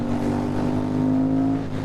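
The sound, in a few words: KTM 990 Super Duke V-twin motorcycle with Akrapovic exhaust revving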